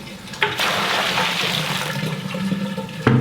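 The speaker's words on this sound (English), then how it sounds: "Sounds like a urinal." Water rushes loudly down a drain in a garage building, like a urinal flushing: a continuous, strong hiss and gurgle lasting about three seconds, close by and with no voices.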